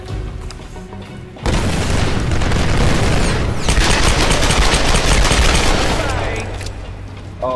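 Gunfire and explosions in the Tomb Raider Definitive Edition video game, with a loud sustained burst of rapid shots and blasts lasting several seconds after a quieter start, then easing off near the end.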